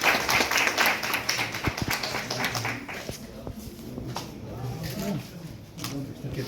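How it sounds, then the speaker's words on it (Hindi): Applause at a ceremony honouring candidates, greeting one selected as a rural development officer, with scattered claps that are loud at first and then taper into lighter, sparser clapping, while speech continues over it. "जोरदार तालियों से इनका स्वागत करें"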